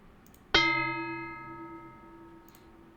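A single bright bell strike triggered by a face-controlled drum machine built in Unreal Engine 5, sharp onset then a long ringing decay that fades over a couple of seconds, alone.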